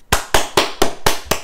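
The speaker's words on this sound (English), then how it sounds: "Just round of applause" Six sharp, evenly spaced claps ring out close and loud in the quiet, a short burst of applause from hands striking together with no talking over them.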